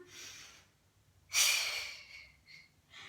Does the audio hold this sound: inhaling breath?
yes